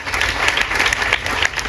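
A crowd claps steadily at a book event in France, dense and continuous applause filling the whole moment without a break.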